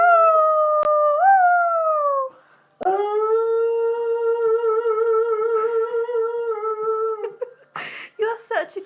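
A dog howls in long, wavering, song-like tones, one drawn-out howl, a short pause, then a longer sustained howl, close and loud, ending with a few brief yips and rustles.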